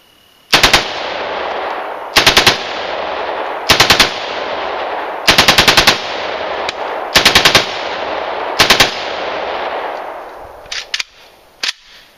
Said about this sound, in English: That's a real assault weapon,